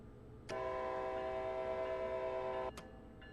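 An Amtrak ACS-64 electric locomotive in Train Sim World 2 sounds its horn in a single steady, loud multi-tone blast of about two seconds, followed by a short second toot over low running rumble.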